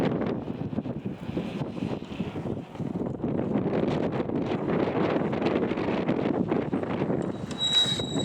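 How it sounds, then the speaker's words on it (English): Strong wind at night on Wellington harbour buffets the microphone in continuous gusty rumbles, loud and close, with a faint high whine near the end. "A bit windy tonight, guys."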